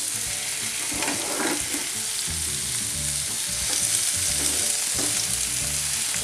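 Garlic and onion sizzle steadily in olive oil, a dense continuous frying hiss with occasional stirring scrapes, close and loud with no talking throughout.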